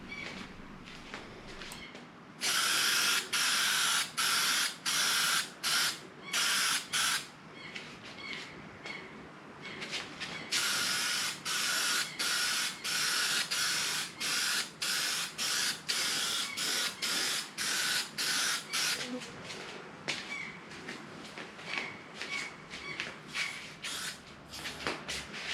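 A coating sprayed from an aerosol spray pack, a product that needs no primer and dries tough but flexible, hisses close by in a long run of short bursts with brief gaps between them. No one talks.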